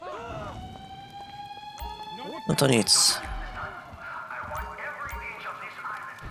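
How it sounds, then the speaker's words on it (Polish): In the GTA Online Cayo Perico heist, an alarm goes off, sounding as a sustained electronic tone amid game effects and a sharp burst of noise, while someone talks over it. "No i alarm się włączył, no niestety."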